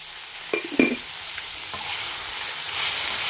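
Vegetables sautéing in a pan, a constant crackling sizzle broken early by a couple of spatula knocks and scrapes, then a steady fry.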